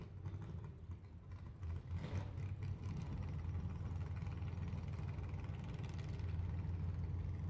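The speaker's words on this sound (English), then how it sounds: "Some motors coming to life back there" Race car engines in the pits at the Rockin Super Shootout, Bristol, rumble and idle steadily in the background, a low continuous drone with a brief surge, fairly distant and unbroken by talk.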